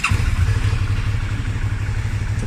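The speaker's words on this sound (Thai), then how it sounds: "ขออนุญาตสตาร์ทเครื่องยนต์ให้ฟังนะครับ" A 2018 Suzuki V-Strom 650 motorcycle engine starts and rumbles steadily up close, a low throbbing idle that fills the whole clip with some mechanical clatter.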